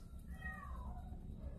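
A young six-month-old calico kitten gives a single faint, drawn-out meow with a falling pitch, heard alone and close against quiet background noise.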